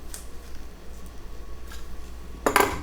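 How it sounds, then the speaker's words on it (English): A cheese slicer cuts a slice of Gruyere and cheddar: a short scraping, crisp cut near the end, close and fairly clear over quiet kitchen background. "next now I'll get my cheese slicer, cut me another slice"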